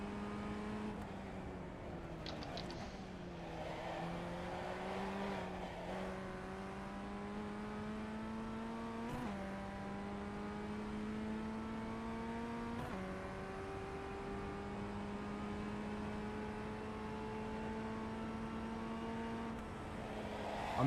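Race car engine from the iRacing sim, droning steadily for the whole stretch with rising harmonic whine as it accelerates through the gears, sharp drops at each upshift, loud and continuous with no talk.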